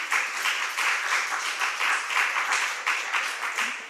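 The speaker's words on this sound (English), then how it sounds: "maybe I'll ask you to hold your applause until I announce the fourth place too" A seated audience claps for competition winners at a Berkeley agentic AI summit, producing dense, sustained applause that holds steady for several seconds and fills the room.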